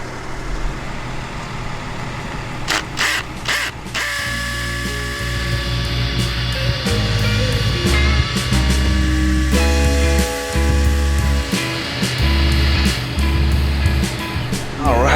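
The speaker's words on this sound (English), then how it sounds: "I'm about to drill each one of these little holes out" Power drill boring holes through a lettering template for 3D building numbers, in loud whining bursts that rise and stop repeatedly, close and dominant, with short pauses between holes.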